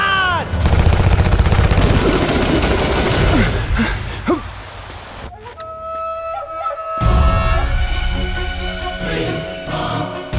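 Dense gunfire crackles through a Hindi film shootout, rapid overlapping shots and bursts ringing loud and close, with a brief lull before the firing resumes amid a dramatic score.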